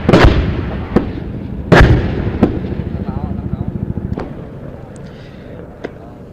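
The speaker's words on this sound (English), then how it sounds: "The South Vietnamese Air Force is bombing along the sides of Highway 13 this morning" Bombs from South Vietnamese Air Force aircraft strike along the sides of Highway 13 in 1972 wartime, a series of heavy booming blasts with rumbling tails, two loud ones early and fainter sharp reports following at irregular intervals.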